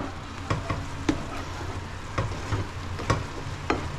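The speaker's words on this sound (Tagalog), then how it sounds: "Palutuin ko pa ng konti ang itlog. Hanggang parang nagse-separate, nagmamantika." Eggs frying in oil with tomato, onion and garlic in a pan, a steady close sizzle broken by sharp spatula taps and scrapes every half second or so, with no talking.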